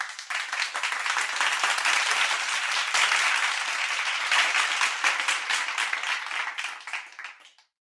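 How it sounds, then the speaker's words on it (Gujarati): A whole classroom of children claps along together, a loud, dense burst of applause that holds steady for several seconds and then fades out quickly. "આખો વર્ગ તાળીઓ સાથે જોડાયો"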